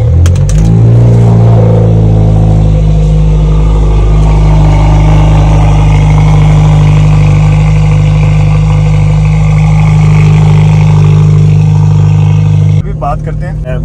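A car left unused for two days cranks and fires up, then settles into a loud, steady running drone with revving, close by, until it cuts out near the end.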